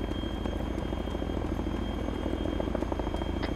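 Helicopter in the military shooter ArmA 3, a steady droning rotor and engine roar holding at constant loudness throughout, with no other clear sounds over it.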